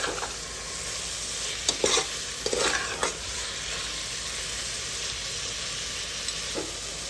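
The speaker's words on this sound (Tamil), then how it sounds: "நல்லா மிக்ஸ் பண்ணுங்கள் காளானோட எசன்ஸும் நம்ம ஆல்ரெடி இருக்கிறதும் நல்லா மிக்ஸ் ஆகணும்" Mushrooms for a biryani are stirred and mixed in a sizzling pan, a constant close frying hiss broken by a few bursts of scraping and clattering spoon strokes, with no one talking.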